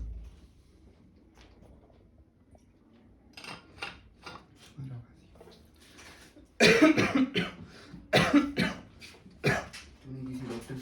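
A man with a lingering cough hacks repeatedly, a quiet stretch with faint household clatter giving way to a burst of loud, harsh coughs and throat clearing in quick clusters, with a few words spoken nearby.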